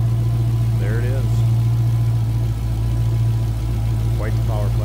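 A supercharged 6.2-liter engine in a 2018 Dodge Challenger SRT Demon idles with a steady low rumble, while a few faint high squeaks or chirps come through on top.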